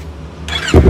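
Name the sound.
Yamaha MT25 motorcycle engine idling through aftermarket exhaust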